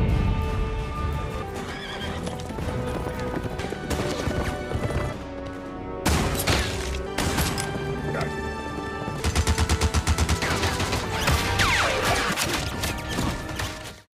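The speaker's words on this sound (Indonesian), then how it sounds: "Mereka berdua justru harus terkena tembakan Gatling gun, sehingga mereka pun tewas seketika." Loud rapid bursts of Gatling gun fire rattle over dramatic orchestral music in a cowboy film, with horses whinnying and galloping amid crashes.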